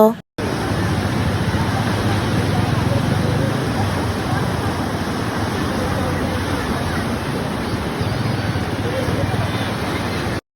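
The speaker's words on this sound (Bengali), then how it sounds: "সমুদ্রের আওয়াজটা খুব সুন্দর" Sea waves on a clear blue-water beach near Cox's Bazar, a steady broad roar of surf filling the scene throughout, with a faint murmur of people in the background.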